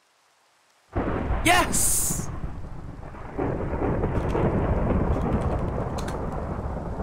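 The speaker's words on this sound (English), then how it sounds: "Is this a thunderstorm?" Minecraft thunderstorm with steady rain hissing throughout and a loud thunder crack near the start, rumbling on under the downpour; a voice briefly exclaims over it.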